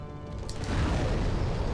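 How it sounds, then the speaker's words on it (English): A big explosion in the video game Demon's Souls, a low rumbling boom that swells after a quiet start and holds loud and dense to the end, with no talk over it. "That's a big explosion."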